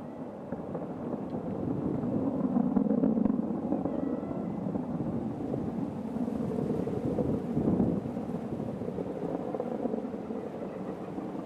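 An Atlas V rocket climbing after launch gives a steady, distant low roar and rumble, broad and continuous with slight swells, with no voices over it.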